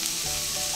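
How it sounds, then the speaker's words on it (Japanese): Burdock root sizzles and crackles steadily as it is stir-fried in melted beef fat, a soft, close hiss with no talking. "まずはごぼうから炒めます"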